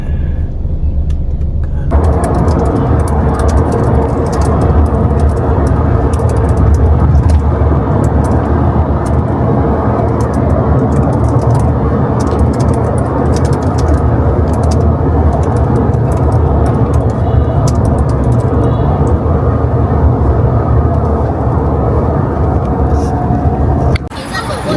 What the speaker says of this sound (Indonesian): Kita kena macet, guys.